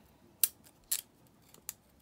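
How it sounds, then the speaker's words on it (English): Three or four crisp snips of slightly blunt scissors trimming leaf edges, spaced apart and fairly close, in an otherwise quiet room. "I'm going to trim those edges off."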